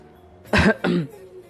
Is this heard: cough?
yes